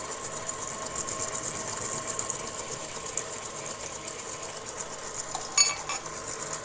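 An electric mixer whirs steadily through cookie dough for mint chocolate chip cookies, a constant mid-level motor hum running alone with a brief clatter near the end.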